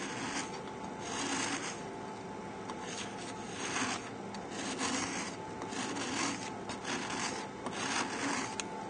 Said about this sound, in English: Just scraping away till you reveal the top of the dish.